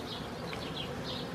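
Honeybees buzzing at an open beehive during a brood inspection, a soft continuous drone with a few louder passing hums from bees flying close by.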